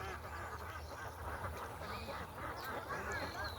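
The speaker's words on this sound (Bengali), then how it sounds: "এখানে টোটাল হচ্ছে আপনার নয়শো হাঁস" A large flock of about nine hundred farm ducks quacks continuously at a wetland duck farm, a dense, distant chorus of overlapping calls at low volume.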